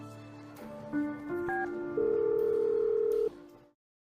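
A telephone being dialed: a run of steady keypad tones of shifting pitch, one long held tone near the end, clear and close with no voices.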